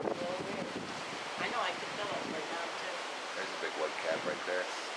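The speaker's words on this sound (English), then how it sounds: "you can feel a little splash of the water way up here on the fifth deck" Ocean waves splash against a cruise ship below the fifth deck, a continuous rushing surge mixed with heavy wind buffeting the microphone.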